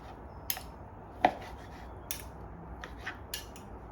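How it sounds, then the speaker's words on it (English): Knife chopping cooked chicken on a cutting board in a kitchen, a handful of sharp irregular taps and cuts over quiet room background, no talking. "So you go against that when you're chopping up the chicken."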